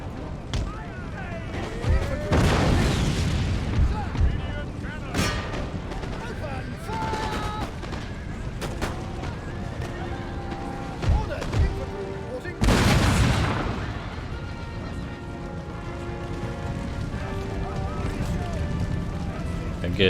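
Battle sounds in Empire: Total War with 12-pounder foot artillery, heavy booms and scattered gunfire at intervals, one big blast standing out midway, under ongoing talk.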